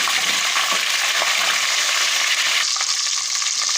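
Garlic ginger paste fries in hot oil toward light golden for red beans, a dense, close sizzle with faint stirring scrapes that continues steadily throughout.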